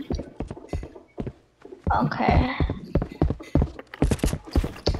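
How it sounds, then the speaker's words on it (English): Footsteps from a character in the Fortnite video game, a run of irregular short thuds and taps heard under and between people talking. "I just hear my footsteps on your screen"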